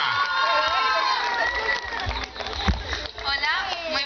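An audience at a live music event cheers, whoops and shouts loudly and continuously, with a voice speaking over the crowd noise.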